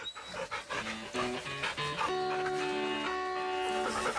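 A dog companion in the video game Remnant II pants in quick rhythmic breaths, close and clear, layered over the game's sustained musical tones.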